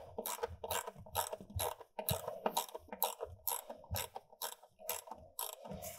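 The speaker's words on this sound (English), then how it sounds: "First, we will go ahead and just take the bracket off. So that's an 8 millimeter socket." A ratchet with an 8 millimeter socket loosens the battery bracket on a Ford F-150 Lightning, quick rhythmic clicking strokes repeating about a dozen times, close and fairly quiet, with no talk.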